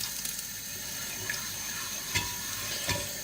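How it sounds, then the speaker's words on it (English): Pork vindaloo gravy being stirred around a pan, a steady wet sizzle and slosh with a few soft scrapes of the spoon standing out near the end, no voices. "add in our liquid gravy that we made earlier. Give this a stir around,"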